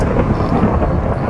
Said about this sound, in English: Of course, it's a thunderstorm.